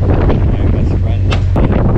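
Wind buffets a microphone outdoors, a steady loud rumble with gusty low roar running continuously throughout, on a trip heading back towards civilisation.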